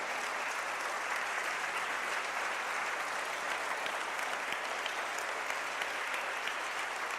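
A large church congregation claps steadily and continuously during a sermon, a dense wash of applause with no pauses.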